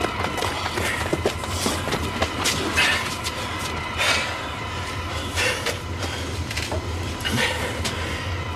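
A train rumbles past with a steady low roar and irregular metallic clatter from the wheels, fairly close and continuous.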